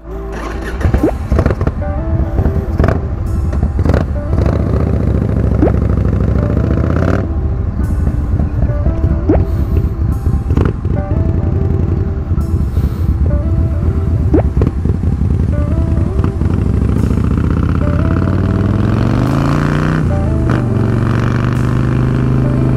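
A custom bobber motorcycle built from a 1997 Harley-Davidson Fat Boy is ridden, its loud engine rumbling close by with repeated throttle changes and shifts, climbing revs toward the end, no talk heard.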